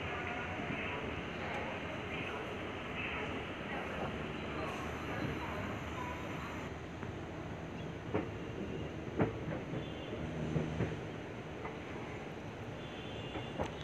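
Steady rumble and rattle of the 03010 Yog Nagari Rishikesh–Howrah Express pulling out of Moradabad railway station, with wheel clicks and a few sharper knocks late on, heard from aboard the train.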